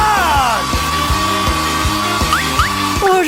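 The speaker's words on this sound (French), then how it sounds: "Je préfère utiliser un sèche-cheveux." A cartoon hair dryer runs with a steady whirring hum and a rhythmic pulsing undertone, loud and close, with short whistling squeaks near the end.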